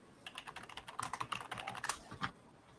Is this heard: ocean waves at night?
no